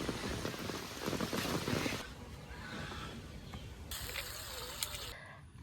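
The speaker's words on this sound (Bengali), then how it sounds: "বৃষ্টি নামতেছে তাড়াতাড়ি যাও" Steady rain patters down, heavier at first and then easing into a softer hiss, with a few faint bird calls near the end.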